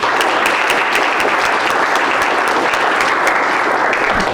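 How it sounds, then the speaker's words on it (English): A luncheon crowd gives scholar athletes a round of applause, loud, dense and steady clapping filling the room throughout with no break. "How about another round of applause for our scholar athletes?"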